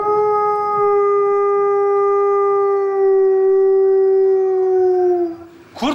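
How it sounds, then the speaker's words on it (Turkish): A long, sustained wolf howl, loud and close, holding a steady tone for about five seconds before trailing off, with a brief noisy burst at the very end. "Sanki uluma sesi geldi"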